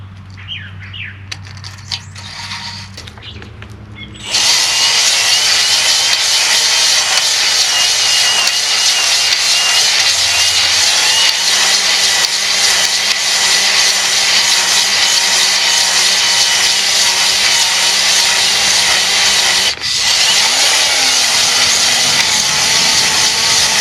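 An engine cylinder being honed to a crosshatch finish: a steady, loud abrasive whirring grind that runs continuously for about twenty seconds after a brief quieter start, with one short break near the end.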